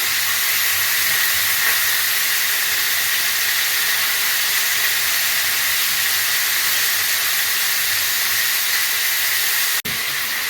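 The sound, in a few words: meat searing and sizzling in a hot pan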